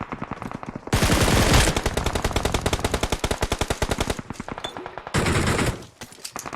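Rapid automatic gunfire in a first-person shooter game, with dense bursts of rounds from enemy players firing from above, loud and close, continuous over several seconds with brief pauses, and no voices.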